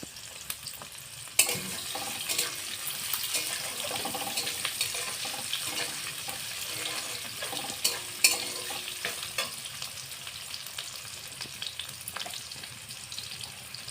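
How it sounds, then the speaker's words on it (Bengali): Chopped green chillies and onion frying in oil for egg-chicken biryani: a constant low sizzle with occasional sharp scrapes and stirring clatter from a spatula in the pan, quiet and close, no one speaking. "এটাকেও এর মধ্যে দিয়ে দিলাম দিয়ে আমি ভালোভাবে ভেজে নেবো"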